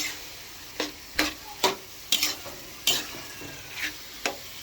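Scrambled eggs with tomatoes stirred in a frying pan, a utensil scraping and tapping the pan in about nine irregular strokes over a steady sizzle, close and clear.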